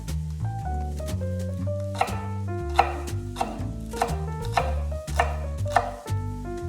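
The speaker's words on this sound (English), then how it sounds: "Thinly slice the green onion." Knife thinly slicing green onion on a cutting board for ahi poke, a series of crisp, evenly spaced chops heard under steady, fairly loud background music.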